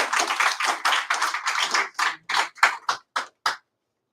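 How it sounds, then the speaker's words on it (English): Audience applause at the end of a four-day event's closing ceremony, a brisk burst of clapping that thins into a few separate claps and then stops. "Give a big round of applause for yourself for 4 days."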